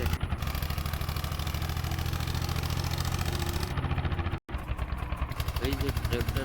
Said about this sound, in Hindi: ये ट्रैक्टर की आवाज़ एकदम बढ़िया है